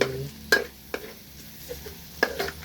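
Garlic is stir-fried in a pan over a wood-fire stove, a soft sizzle under a few sharp spatula scrapes spaced irregularly, close and fairly quiet.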